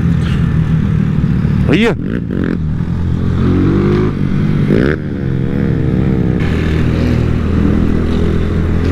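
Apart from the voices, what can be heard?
many motorcycles riding together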